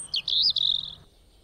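A single bird chirp used as an audiobook sound effect, a quick bright twittering call, close and clear against near silence.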